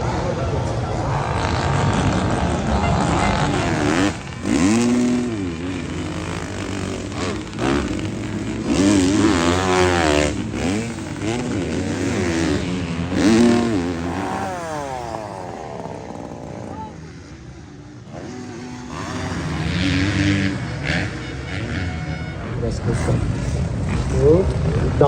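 MX2 class motocross bikes racing on a wet track at the Swedish Grand Prix, buzzing two-stroke-like engines revving up and down loudly as bikes pass and fade, with a commentator talking over the racing noise.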